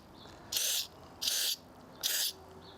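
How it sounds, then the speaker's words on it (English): Cleaner is sprayed onto a car's mass airflow sensor in three short hissing bursts, evenly spaced and close, against a quiet background. "we're just going to spray it down real good with several good sprays"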